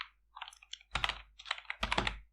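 Quick clustered bursts of clicking keys come from a computer keyboard as Python code is typed, close and clear, with short gaps between the flurries.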